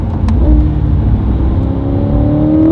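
A new C8 Corvette engine revs through a quick downshift, a loud, steady drone with rising whine, heard from inside the car with no talking.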